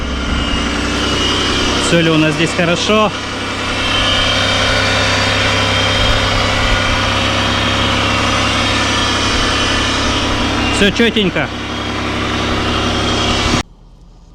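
A Toyota Surf 185 idles as it warms up after three weeks parked, a steady low engine drone throughout with two brief whining bursts of power steering as the wheel is turned, someone speaking over it, cutting off abruptly near the end.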